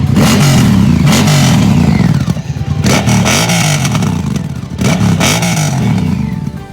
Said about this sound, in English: I will start the bike and try if you can hear it. This is the sound.